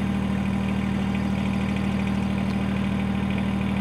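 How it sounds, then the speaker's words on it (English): A Kubota tractor engine idles steadily, a continuous low rumbling drone with an even throb that holds at the same level throughout, close up and with no talking. "I started this tractor up"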